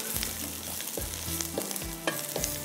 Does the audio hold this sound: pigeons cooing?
no